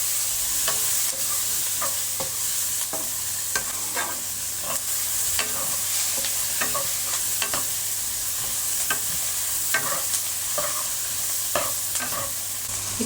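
Tomatoes sauté in a pan for prawn masala: a steady sizzle of frying with regular scraping and tapping as a spoon stirs, close and continuous, with no talking.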